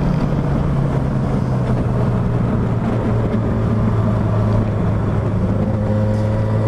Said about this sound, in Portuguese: parece que alguém já fez uma obra aqui no catalisador dessa moto aqui, que ela tá fazendo barulhinho